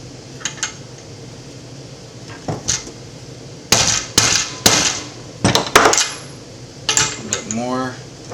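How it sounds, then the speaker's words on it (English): Sharp metallic taps ring out in short clusters as a socket drives a bearing into a Williams Cycling System 30 rear bicycle wheel, each strike crisp and close against a quiet room. "use a big socket if you want, and kind of gently tap it in"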